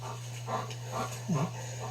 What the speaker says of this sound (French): Il est bien gentil, ce chien-là.